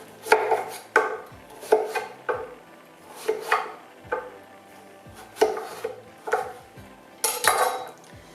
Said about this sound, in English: All right, so let's chop it up.